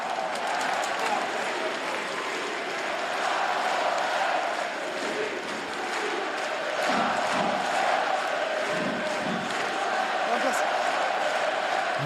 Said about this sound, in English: The crowd hasn't been quiet. They've been plenty noisy.